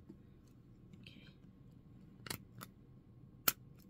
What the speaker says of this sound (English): Need a little sharper scissors than these.